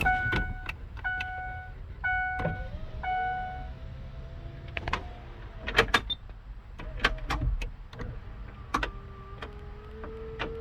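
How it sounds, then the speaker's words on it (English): Electric window motors whir up and down several times inside a 2004 Ford F-150 truck converted from manual windows, interspersed with clicks, thumps and beeping chimes. "I got working windows."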